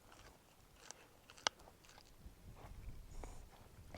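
Soft, ripe, seeded fruit being eaten close up, quiet wet chewing with a few faint bites and one sharper crunch, outdoors near a farm field.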